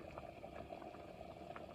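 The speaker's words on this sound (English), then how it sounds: "See how it's bubbling?" Soft, continuous bubbling and popping of a pot of beans simmering on a stove, quiet and steady with a low hum underneath.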